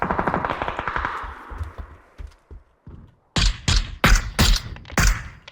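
Rapid bursts of automatic gunfire ring out in a PUBG match, several loud, sharp volleys close together after quieter thumps and movement sounds, with no talking during the shots.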